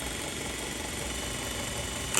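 A sewing machine runs continuously while closing a seam on fabric with an exposed zipper, a steady, even mechanical whir at moderate level with no pauses, ending in a short clunk.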